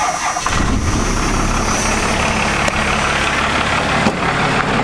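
A heavy diesel engine cranks and catches, then settles into a loud, rough, steady idle that fills the rest of the clip, close by.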